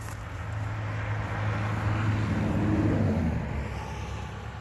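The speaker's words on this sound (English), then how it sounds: "Sorry about the traffic noise" Busy street traffic passes steadily, with a low engine rumble from passing vehicles that swells in the middle and fades slightly toward the end, heard alone without speech.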